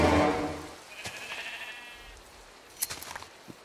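A Minecraft sheep lets out a short bleat close by, followed by a few quiet clicks and faint game sounds in an otherwise hushed scene.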